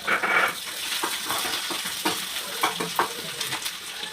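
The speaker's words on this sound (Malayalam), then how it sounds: "ഈ ഉള്ളി കരിയാപ്പിലയും എല്ലാം കൂടി ഒന്ന് കടുവ് വറക്കാം" Mustard seeds, onion and curry leaves fry in hot oil for tempering: a soft continuous sizzle with scattered crackles and pops, plus light stirring scrapes in the pan, fairly quiet and without talk.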